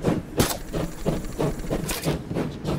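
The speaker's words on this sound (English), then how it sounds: "Uh-oh, train's going faster." A train in the video game Voidtrain speeds up, pulsing rhythmic chugging and hissing bursts that repeat steadily and sound close.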